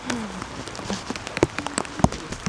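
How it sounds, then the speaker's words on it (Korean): Rain patters on a campsite during a sudden shower, with scattered close drips and taps on tarp or gear over a steady wet hiss, some louder drops landing sharply. "비 온다."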